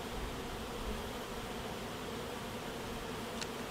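Honey bees buzz around opened hive frames during an alcohol wash check for Varroa mites in fall, a dense continuous close-up drone of many insects filling the whole stretch without talk.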